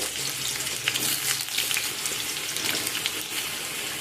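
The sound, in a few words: potatoes frying in mustard oil, being stirred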